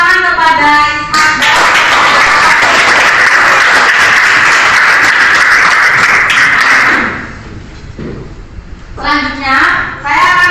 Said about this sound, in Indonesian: Jadi tepuk tangan kepada Ishak